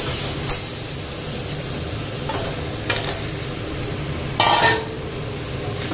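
Spiced masala frying in a pan with potatoes just added, a steady close sizzle broken by a few brief scraping stirs of a spoon against the pot, no talk.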